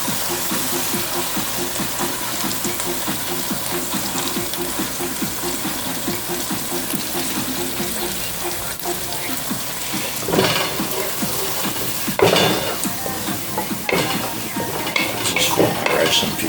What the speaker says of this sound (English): I'm about to add my kidney beans